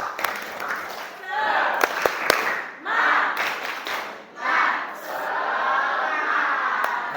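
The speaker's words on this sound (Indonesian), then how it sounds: "Tepuk semangat dong." A classroom of students does a rhythmic spirit clap, with a few sharp hand claps woven through loud group chanting and shouting in several bursts, all close and lively.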